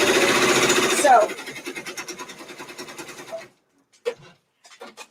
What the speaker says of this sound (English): this next stitch up here, it's going to be stitching for probably about 20 minutes doing those satin stitches all around those rainbow blocks